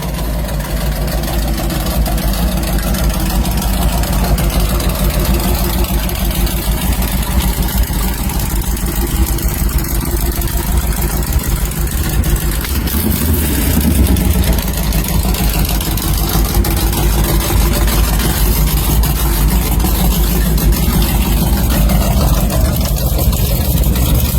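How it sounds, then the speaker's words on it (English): A 1927 Ford Roadster hot rod with a 350 Chevy small-block V8 idles steadily, a loud, continuous low rumble that holds unchanged throughout with no voices. "this 1927 Ford Roadster is a custom-built hot rod powered by a 350 Chevy small block"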